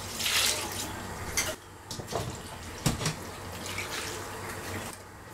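Half a litre of water splashes and rushes steadily onto shredded red cabbage in a pot, with a few louder gushes and clinks of the pot in between.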